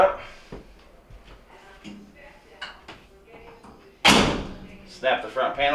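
The door of a Maytag MGDB200VQ dryer swings open during a repair, producing one sharp, loud clack and thump near the end. Quieter handling noises come before it and a few light knocks follow.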